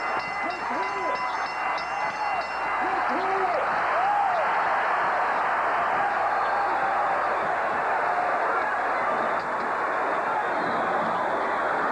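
Dense boxing arena crowd cheering and applauding as fans rise to their feet at the Holyfield vs Bowe rematch, a loud sustained roar with whistles and shouting voices, continuous throughout.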